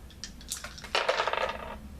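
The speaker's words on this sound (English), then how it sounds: "You roll 3 dice here." Three dice rolled on a table during a game of the Memoir '44 board game, a short clattering tumble that settles quickly, with no voices.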